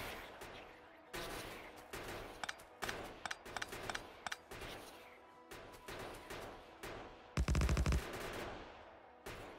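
Defensive turrets in the factory-building game Factorio fire in rapid bursts of gunfire, with repeated clustered shots and sharp broken volleys across the stretch and a louder, denser burst near the end.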